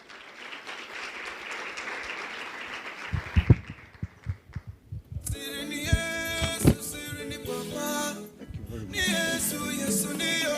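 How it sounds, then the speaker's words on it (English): A crowd at a Kenyan political rally claps for a few seconds, then the applause gives way to loud drumming and music with scattered hits. "That is not sufficient round of applause"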